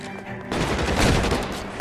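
Machine gun fire in the video game L.A. Noire, a dense loud burst of rapid automatic shots starting after a brief moment and continuing to the end.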